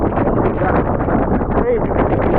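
Strong headwind buffeting outdoors, a dense continuous roar of wind noise across the whole moment with no pauses.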